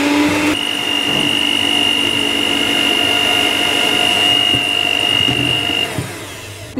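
Electric hand mixer beating four eggs with granulated sugar in a mixing bowl for a cake batter, a steady loud whirring drone throughout that drops off near the end.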